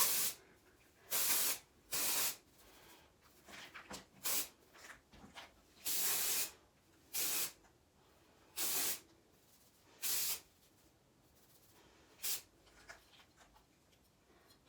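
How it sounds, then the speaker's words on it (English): Perfect Hair Day dry shampoo sprays onto hair in about a dozen separate hissing bursts, each a second or less, with quiet pauses between them, close and clear. "my all-time favorite, Perfect Hair Day dry shampoo"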